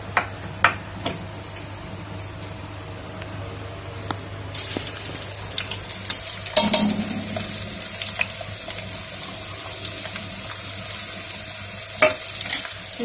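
Chopped onion and tomato sizzling in a pan with cumin, a steady soft frying hiss broken by sharp clinks and stirring scrapes, with a louder burst of sizzle midway.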